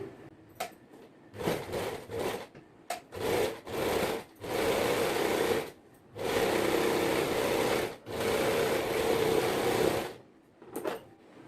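A sewing machine stitches a nightsuit in several close, even bursts of steady whirring separated by brief pauses, with no talking.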